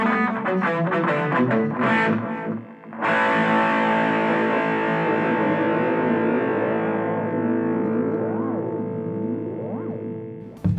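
Electric guitar through a Blackstar Fly 3, a 3-watt solid-state practice amp, with a short delay set like a reverb: overdriven chords strummed, then a long ringing chord whose echoes warble in pitch as it decays.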